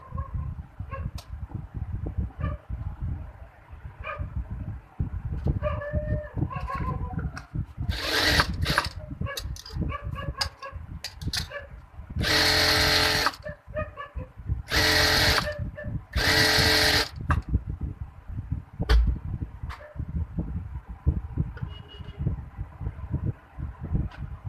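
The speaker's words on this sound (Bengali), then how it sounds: "তাই যে প্রথমে আমি ফিতাটা সেলাই করে নিব।" A sewing machine stitches a ribbon onto a baby frock, its motor buzzing in short, uneven runs broken by several louder, bright bursts, with clicks and handling noise in between.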